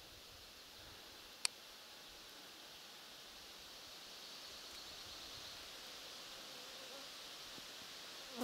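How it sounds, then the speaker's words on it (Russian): Mosquitoes whine in a birch forest during a roe deer hunt, a faint, steady high buzz over quiet woodland ambience with one brief sharp click. "Комары."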